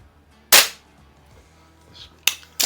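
A Baikal IZH-46M air pistol fires at a 10 m target in a garage: one sharp crack, then a short pause, then two more quick pops close together, each close and loud over a faint background hum.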